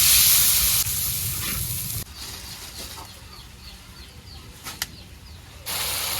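Water poured into a pan of frying onions, turmeric and chilli powder gives a loud hiss that fades into softer bubbling, with a clatter partway through and the sizzle rising again near the end.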